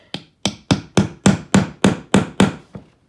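A part is tightened with a hand tool, giving about nine sharp, evenly spaced knocks roughly a third of a second apart. The knocks are close and loud, with no talking.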